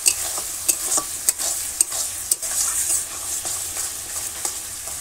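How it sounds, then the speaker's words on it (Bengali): Spice masala is stir-fried in oil for a country chicken curry over a coal fire in a village kitchen, a steady close sizzle broken by repeated sharp spatula scrapes and knocks against the pan. "মশলাটা আমার প্রায় কষা হয়ে গেল।"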